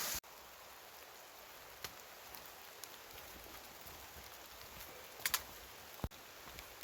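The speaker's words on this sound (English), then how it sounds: "Raining pretty good now." Steady rain falls outdoors as a soft, even hiss, broken by a few sharp drip-like taps and one louder knock near the end.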